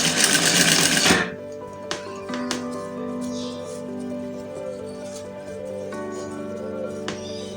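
A sewing machine stitching fabric along a marked line, its needle clattering in a steady fast run after a brief loud burst at the start, close and alone.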